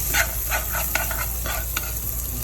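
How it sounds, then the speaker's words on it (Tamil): Tomato and green chili fry in a pan for an Arabian-style egg curry while being stirred, with rhythmic scraping strokes over a continuous close sizzle and no speech. "ஒரு தக்காளியை போட்டு அப்படியே ஒரு கிண்டு கிண்டணும்"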